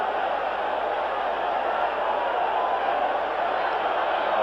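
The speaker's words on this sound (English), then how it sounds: "listen to this crowd. They're alive now." A baseball stadium crowd at a Tigers versus White Sox game sends up a steady, distant roar of cheering, an even wash of noise with no single voice standing out.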